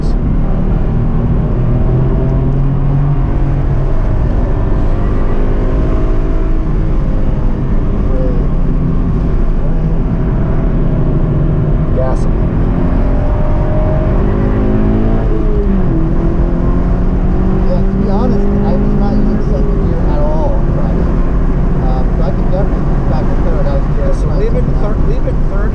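A race car pulls hard on the track at Summit Point, its engine note loud and continuous, climbing and falling in pitch as it accelerates through the gears, with occasional speech from inside the car over the engine.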